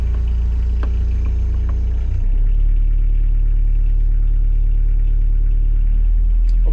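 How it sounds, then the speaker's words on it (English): Inboard boat engine mounted under the cabin sole, running cold and raised from idle to higher revs, a loud close low rumble that steps up in pitch partway through. "Let's actually just put the revs up a little bit."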